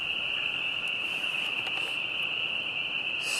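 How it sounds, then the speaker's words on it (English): A chorus of tiny spring peeper frogs calls in the background, a continuous shrill high-pitched trill that holds steady and unbroken throughout, fairly faint and distant. "peepers, which are those real tiny little frogs that you're going to hear in the background"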